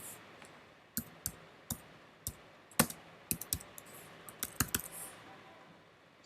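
Clicky computer keyboard typing with irregular bursts of keystrokes, close and fairly quiet, while entering text in a cloud console.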